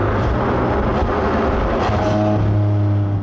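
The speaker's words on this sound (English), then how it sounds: "It will give you incredible downshifts. Here, I'm going to go from 6th to 2nd." A Porsche 718 Cayman GT4 RS engine rises in a loud, continuous revving blip as the car downshifts from sixth to second in town, the pitch climbing and holding in a steady droning note over about three seconds.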